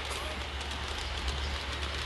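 A garden railway model train runs outdoors, giving a steady low rumble with faint rail clatter that carries on evenly throughout, moderately quiet and without talk.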